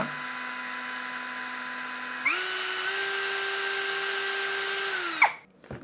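A CAZAR 21v cordless drill with a wobbling chuck whirs steadily at close range, jumps to a higher, louder pitch partway through, then winds down and stops.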